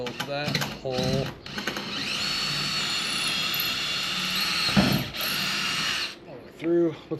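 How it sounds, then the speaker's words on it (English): A power drill whirs steadily for several seconds while re-drilling a bolt hole during work on a BBQ food trailer, with brief mechanical clicks before it and a short voice at the very end. "Re-drill that hole."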